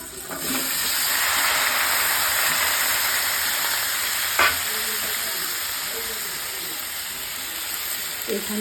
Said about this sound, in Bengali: শুধু একটু ভাজবো চিকেনটা তো মানে সিদ্ধ পর্যন্ত